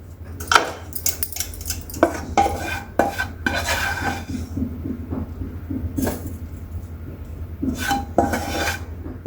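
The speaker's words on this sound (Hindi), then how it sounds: "तो इसे एक बर्तन में निकाल लेते हैं।" Roasted coriander powder scraped and tipped from a pan into a vessel while making dhaniya panjiri, with repeated metal spoon clinks and scrapes against the cookware, close up and without talk.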